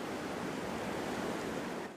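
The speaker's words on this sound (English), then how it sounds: "the wind roaring" Steady broadband roar of wind at the seashore, with surf-like wash blended in, continuous and fairly loud for the whole stretch before easing slightly at the end.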